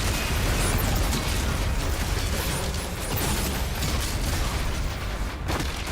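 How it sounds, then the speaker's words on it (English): Loud, dense explosions and blasts from a grenade in DOOM: The Dark Ages, a continuous wall of booming noise with mechanical clatter throughout, no voices. "I gotta stop grenading myself in the face."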